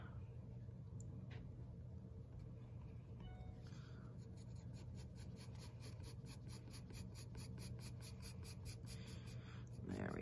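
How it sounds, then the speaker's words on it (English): Pepperoni being drawn onto a pizza picture gives soft, continuous scratchy rubbing strokes of a drawing tool on paper, faint and close, over a low steady room hum. "I'm gonna draw some pepperoni"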